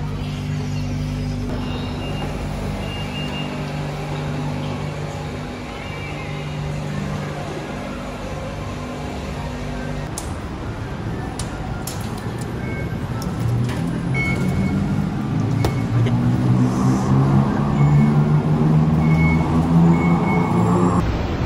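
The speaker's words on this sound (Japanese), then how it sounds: "この時間でこれだけの交通量です。" Busy night traffic on the road near Tokyo Station, a continuous wash of passing cars and engines with a low vehicle drone swelling louder toward the end, with no talking.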